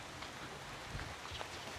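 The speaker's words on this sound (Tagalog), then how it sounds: "Ayan, umulan na." Steady rain falls outdoors in the countryside, a soft, even hiss that fills the whole moment without pause.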